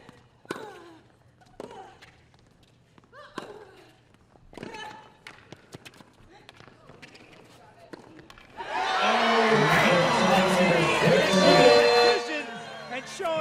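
At a World TeamTennis match between the Springfield Lasers and San Diego Aviators, sharp ball strikes and thuds give way to a sudden loud, sustained cheer and applause from the crowd that carries on to the end.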